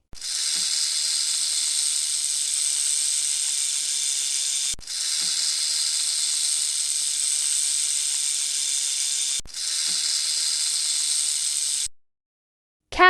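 A snake hisses in three long, steady breathy bursts separated by short breaks, close and loud with no other sounds, followed by a brief click at the end.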